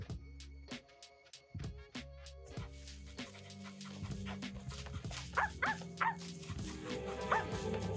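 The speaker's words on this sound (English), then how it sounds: "what is this dog doing in my garden?" A dog in the video game Lord of the Mysteries barks repeatedly in a crisp, regular rhythm, then the barks fade into layered game music and effects that grow louder.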